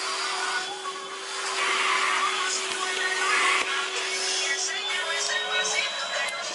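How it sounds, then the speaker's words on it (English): A vacuum cleaner sucking up someone's hair indoors, a steady whirring drone with a high whine running throughout, loud and continuous for several seconds. "Why are you hoovering your hair?"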